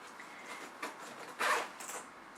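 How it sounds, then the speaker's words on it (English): A zipper drawn open on a large SturdiBag Flexible Height soft pet carrier, several short rasping pulls close up, the longest in the middle. "you can actually unzip this portion."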